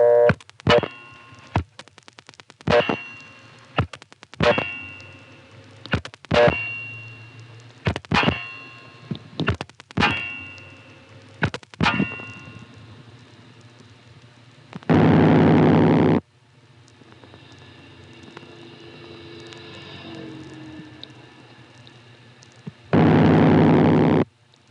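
A telephone ringing on a 1976 step-by-step exchange line in Rawlinsville, Pennsylvania, sounding as a series of sharp, clanging mechanical bell bursts in an irregular rhythm, followed by two loud, harsh noise blasts separated by a quieter stretch of line hum.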